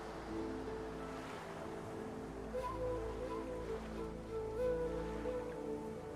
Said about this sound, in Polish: A few tranquil moments pass as the waves lap against you.